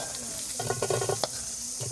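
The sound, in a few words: garlic frying in pan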